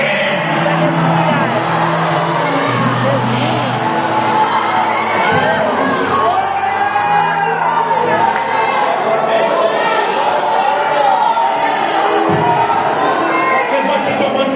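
A church congregation shouts and cheers together during a Portuguese-language worship service, a dense, loud wall of overlapping voices with raised cries that holds steady throughout.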